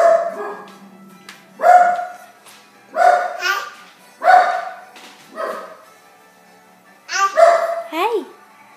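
A dog barks in separate loud bursts, about six or seven barks spaced a second or so apart, close by with a quiet background.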